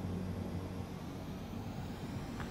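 Fighter jet in the Ace Combat 7 video game attempting a landing, heard as a steady, continuous engine roar with a low drone, fairly loud and unbroken throughout, with no voices over it.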